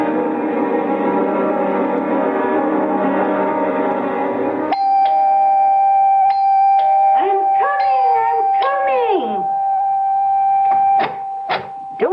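A door chime rings over and over in a series of bright tones following a stretch of music, with voices cutting in between the rings.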